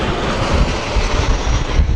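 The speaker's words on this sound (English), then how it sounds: "a Virgin 737" Virgin Boeing 737 passenger jet passing low overhead on approach at Sydney Airport on a windy day, a loud, broad roar with gusty wind buffeting, no voices.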